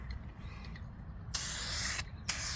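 An aerosol spray paint can laying light sealing coats over a car emblem in a makeshift paint booth: a soft hiss, then two louder close bursts of spray separated by a short gap.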